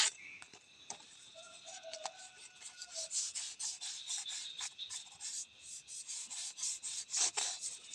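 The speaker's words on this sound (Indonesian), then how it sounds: "Kita amplas dengan menggunakan amplas ukuran P1000 ya, P1000." Soft, steady rasping of P1000 fine sandpaper rubbing back and forth, quiet and close, with a faint high hiss and no talking.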